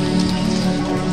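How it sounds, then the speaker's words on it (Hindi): Steady rain pours down in a dense, even hiss over a low background drone, with no voices, in Nepal. "तो ये देखिए अभी बारिश मतलब शुरू हुई"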